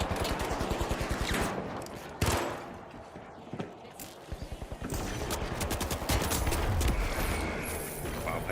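Near-continuous rapid gunfire in the shooter game The Finals, loud automatic bursts with brief pauses and sharp single cracks, filling the scene with close, dense shooting.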